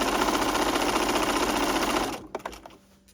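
A sewing machine set to zigzag stitch runs through blouse fabric in a steady, close, rapid whir for about two seconds, then stops, leaving a few soft mechanical clicks.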